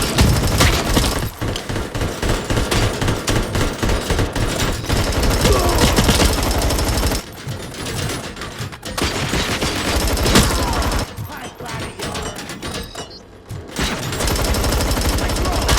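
Rapid, sustained gunfire in RoboCop: Rogue City, with dense automatic bursts and heavy shots that continue almost without a break and drop off briefly only a few times, while voices are partly heard beneath.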